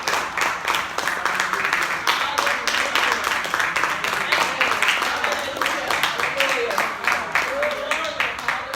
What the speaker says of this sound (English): Let's clap our hands in here.